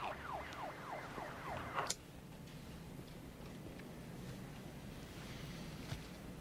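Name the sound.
police siren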